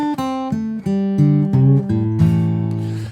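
A short acoustic blues guitar lick of plucked single notes stepping downward, clear and close, with chords ringing beneath, no voices.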